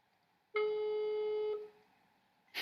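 An unanswered call gives one steady electronic ringing tone from a telephone, lasting about a second before fading into quiet, and then a sharp click.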